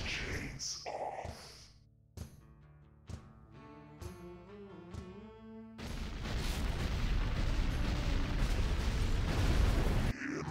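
A particle cannon in Command & Conquer Generals builds up with rising electronic tones and sharp hits, then erupts into a loud, sustained roaring blast that continues to the end.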